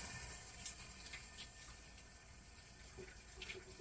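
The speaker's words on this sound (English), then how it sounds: "now I'm gonna wash my hands." Tap water runs steadily into a sink as hands are washed in a home kitchen, a continuous broadband splash with a few brief brighter spatters, close and alone with no talking.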